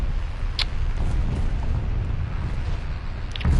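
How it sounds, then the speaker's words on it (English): Bombs explode in a video game as a continuous low, rumbling roar with a couple of brief crackling bursts, fairly loud and without talk. "Is that a bomb? Oh, those are bombs."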